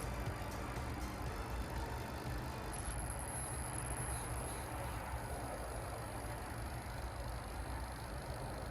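A Hobbywing QuicRun Mini 24 RC truck with a two-speed transmission runs its FOC motor steadily throughout, a continuous near motor whine and rattle over broadband rumble, joined partway through by a thin high-pitched tone.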